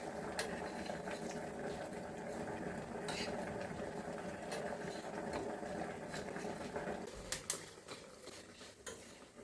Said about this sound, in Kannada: ಹುರಿ ಹಾಂ, ಆಚೆ ಈಚೆಗೆ ನೀಟಾಗಿ ಮಾಡಿ ಫ್ರೈ ಇಟ್.